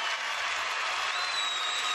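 An audience applauds at an awards announcement for a data-tech competition, a steady, dense patter of clapping from a moderate crowd over two seconds.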